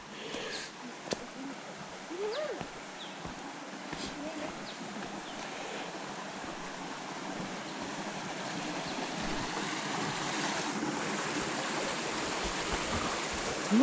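A small river flows through a forest with a steady, close wash of water that grows slightly louder toward the end, with no talk over it.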